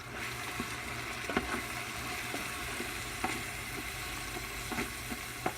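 Garlic frying in a pan, a steady close sizzle with occasional soft stirring clicks and scrapes, no talking.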